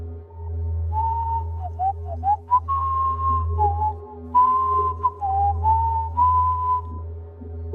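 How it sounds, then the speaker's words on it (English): Someone whistles "I've Been Working on the Railroad," clear but slightly distant in a basement, over a steady low electrical hum with a few pauses between phrases. "while in the basement, someone whistling,"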